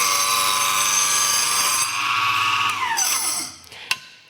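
A chop saw whines steadily at high pitch cutting wood, then winds down as the blade slows to a stop, ending with a brief clunk.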